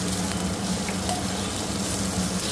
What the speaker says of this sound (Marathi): त्यात घालते टोमॅटो आणि हे पण व्यवस्थित फ्राय करून घेते.